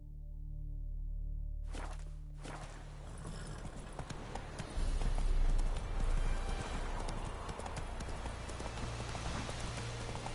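Horse hooves clip-clop steadily beneath a rider in the video game The Witcher 3: Wild Hunt, rhythmic and close, mixed with ambient game sounds and low music after a brief spoken command at the start.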